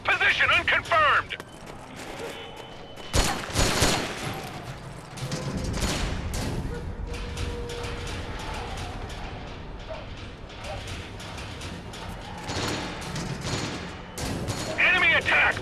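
Rapid gunfire from a multiplayer video game crackles in bursts of shots and clattering volleys, with voices talking at times over the shooting.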